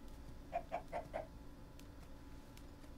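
A video game chicken in a blocky Minecraft-style world clucks four quick times in a row, faint and small against a quiet steady background.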